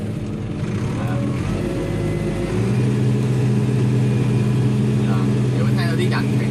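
A tractor is driven in France, its engine holding a steady, low, droning hum that grows slightly fuller partway through, with voices talking over it.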